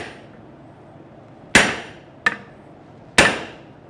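Three sharp, ringing hammer blows strike hot steel held in a triangular swage on a forge anvil, spaced unevenly over a few seconds, each loud and close with a brief metallic decay.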